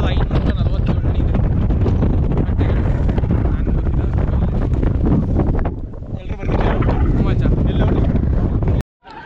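Strong wind blasts across a hilltop about 2547 feet high, battering the microphone with loud, rough buffeting that dips briefly midway before surging back.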